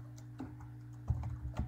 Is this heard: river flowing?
no